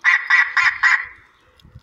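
An electronic hunting game caller plays a duck call: four quick, nasal quacks in a steady rhythm, loud and close, then trails off into quiet.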